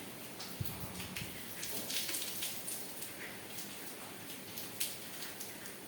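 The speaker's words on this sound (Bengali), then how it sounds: "সারাদিন বাতাস আর বৃষ্টি" Steady rain falling through a windy day, a constant hiss of drops with occasional sharper taps and pattering spread evenly throughout.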